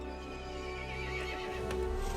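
A horse whinnies in the Resident Evil Village video game, heard over a steady, low rumbling game soundtrack, with a sharper burst near the end.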